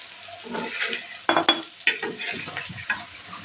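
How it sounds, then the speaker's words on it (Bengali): Onions and green chilies frying dry in a pan for a spicy bhuna, a close crackling sizzle with sharp scrapes and taps of a spatula against metal, no voices. "এমনি কড়া ভুনা করব পেঁয়াজ মরিচ দিয়ে"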